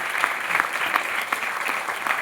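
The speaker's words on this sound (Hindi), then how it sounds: "एक बार तालियां उठाइए सब लोग" An audience at a devotional gathering claps together in a dense, steady round of applause, many hands patting at once in a lively, even rhythm from start to end.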